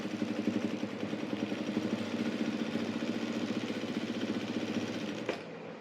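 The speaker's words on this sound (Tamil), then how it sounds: "இப்போ நான் மெதுவாக ஒரு மடித்து தைக்கிறேன்" A sewing machine stitches folded cloth at a slow pace, its steady motor whir and rapid needle patter running continuously up close before stopping abruptly near the end.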